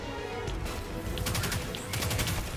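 Weapon fire in the video game Destiny 2, rapid repeated shots in short bursts over a dense, noisy game background, steady and moderately loud with no talking.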